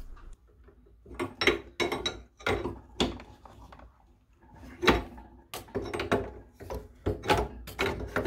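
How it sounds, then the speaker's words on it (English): A plumber tightens threaded plumbing fittings with a spanner, a series of close, quiet metallic clicks and scraping ratchet-like turns in uneven bursts with short pauses between. "and then just tighten them up with the spanner."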